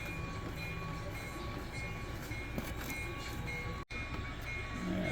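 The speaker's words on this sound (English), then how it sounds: "this train back up." A model train backs up slowly in a home train room during layout operations, giving a steady low rumble and faint clicking of small wheels with a few thin tonal whines, fairly close and continuous.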